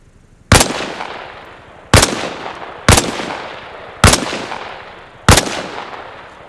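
Five loud, sharp rifle shots from a kneeling position at targets in the Arma Reforger video game, evenly spaced about a second apart, each with a short decaying tail and no talk.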